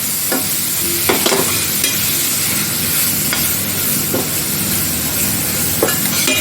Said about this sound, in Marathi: आता घेतलेला मी टोमॅटो आहे साधारण दोन बारीक करून तो पण चांगला मी त्या मसाल्यामध्ये परतून घेते